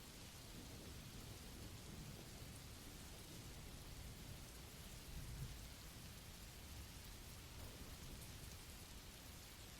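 Steady soft rain falling with a low distant rumble of thunder rolling underneath, faint and continuous with no voices.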